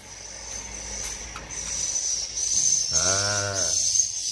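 Recorded swiftlet calls played through an amplifier in a swiftlet house, a steady high hiss-like chirping drone with a brief louder buzzing call near the end, fairly faint overall.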